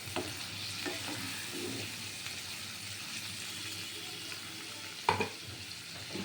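Salt, turmeric and boiled potatoes fry in a pan for soybean korma, a faint continuous sizzle under soft stirring scrapes, with a sharper clatter of the spoon near the end.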